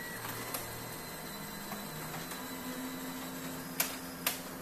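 Color laser printer making a copy, quiet mechanical whirring with a low motor hum shifting as paper is pulled in, plus a couple of sharp clicks near the end.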